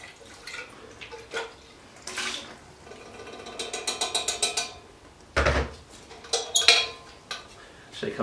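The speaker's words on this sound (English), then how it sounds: "Just simply rinse all surfaces of the can." A metal sampling can is rinsed with cooled boiled water over a sink, with intermittent clanks and knocks of the can and splashes and drips of water in short bursts.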